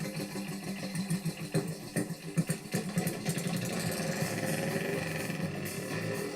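An old English LSE motorbike engine sputters into life with uneven pops, then settles into a fast, steady, noisy running rumble close by.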